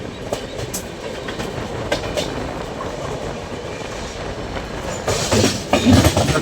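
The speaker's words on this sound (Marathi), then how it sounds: "नाशिक रोड आपण ट्रेन डिपार्चर केले." The Haridwar–Mumbai LTT AC superfast express pulls out of Nashik Road station, wheels clicking over rail joints in a steady close rumble that grows louder and harsher near the end.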